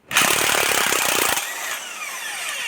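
A power tool, likely an impact driver, loosens tight 15 mm cylinder head bolts on a GM 5.3 L LM7 V8, a loud close burst of hammering that cuts off after about a second and a half, leaving a ringing decay.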